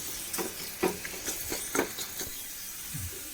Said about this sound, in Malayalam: ഉള്ളിയൊക്കെ നന്നായി മൂത്തിട്ടുണ്ട്.